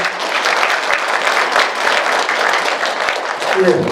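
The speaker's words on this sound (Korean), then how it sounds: "좋은 말씀 주신 신부님께 한 번 더 큰 박수 부탁드립니다" Loud, dense audience applause for a Catholic priest after a confirmation catechism talk, many hands clapping close and continuous, with a brief bit of voice near the end.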